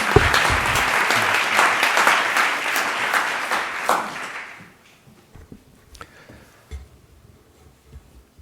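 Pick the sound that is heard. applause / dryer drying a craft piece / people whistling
applause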